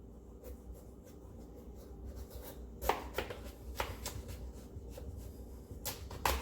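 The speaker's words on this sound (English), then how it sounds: "we're just gonna go ahead and cut it up into smaller pieces" A steak knife cuts a pumpkin into smaller pieces, giving several sharp, close cutting thuds and scrapes spaced irregularly over a low steady background hum, with no talking.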